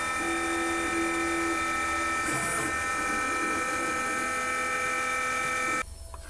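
Roland EGX 300 engraver spindle cutting a wide groove into wax, a steady close whine with tonal harmonics that runs unbroken before cutting off near the end.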